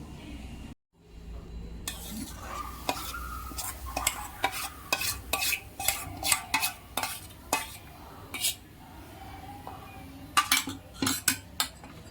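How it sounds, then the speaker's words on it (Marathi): A spoon stirs a coarsely ground lime mixture in a pan as it sautés, giving repeated close clinks and scrapes against the metal over a soft, steady sizzle and no talking. "आता ते पॅनमध्ये घालून परतून घेऊ"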